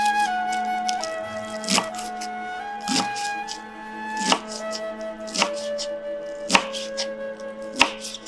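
A knife chops three medium tomatoes and spinach on a board, with steady, loud, evenly spaced thuds under a continuous music backdrop.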